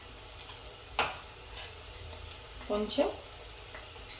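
Eggplant pieces fry in oil for a masala brinjal curry, a low, steady sizzle with a few soft stirring clinks, heard under a brief spoken word.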